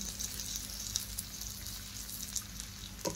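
Oil sizzling in a pan while bitter gourd cooks over a gas flame, a steady faint crackle with occasional small pops, heard alone.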